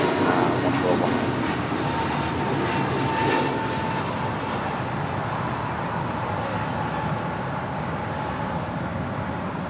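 An American Airlines Airbus A321neo at Los Angeles gives a steady jet engine roar, strongest early on and then settling to a sustained, slightly quieter drone, with no one talking.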